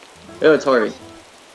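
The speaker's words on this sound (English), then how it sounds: "Also, it's raining." Rain falls in the Animal Crossing: New Horizons video game, a steady soft patter running the whole way through, with a brief spoken remark over it in the middle.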